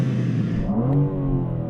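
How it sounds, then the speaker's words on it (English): A stationary BMW M4 revs in place, its engine rising in a smooth, close rumble whose pitch sweeps upward as the revs build, heard from inside the car. "Now I'm revving it in car"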